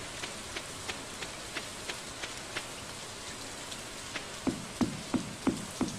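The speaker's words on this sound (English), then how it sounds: "It's raining, but I'm going to do that." Steady rain hissing across the whole clip in Stardew Valley, with a few louder drops tapping near the end, no voices.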